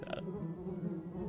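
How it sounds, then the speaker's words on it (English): Bees buzz faintly from a beehive in the video game Minecraft: a soft, steady hum for just over a second. "Oh, the beehive? Oh, beehive. Oh, it's bees. You guys hear that? It's actually bees."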